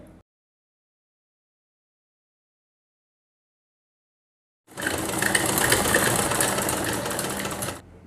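A repaired, 20-year-old shuttle sewing machine stitches after a long silence, a steady, close, fast whirring and clattering run lasting about three seconds.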